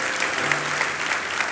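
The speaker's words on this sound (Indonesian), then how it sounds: "kasih tepuk tangan dulu untuk Tuhan" Steady applause from a church congregation praising God during a Sunday sermon, a dense continuous wash of many hands clapping with no voices on top.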